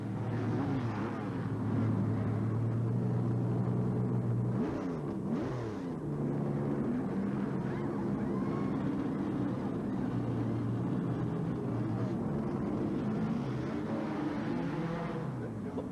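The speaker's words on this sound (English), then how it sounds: "here's Labonte's car into the pits, and they go to the right side of that machine as well" NASCAR race cars roar through the pits at the 1990 Budweiser 200, a steady engine drone with passing whooshes around the middle, heard at a moderate distance with crowd and track noise.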